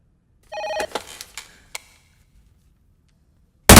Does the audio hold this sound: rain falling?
no